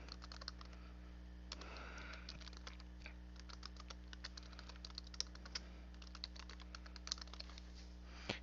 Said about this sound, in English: I'm gonna type in my details here.